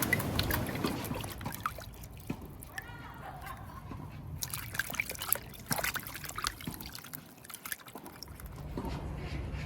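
Water splashes and trickles over muddy ranunculus corms as they are washed by hand, an irregular, fairly faint run of drips, pours and sloshes with scattered handling clicks.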